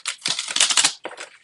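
Tarot cards are shuffled in a quick, dense riffle of rapid papery clicks, close up, followed after a brief pause by a shorter second burst.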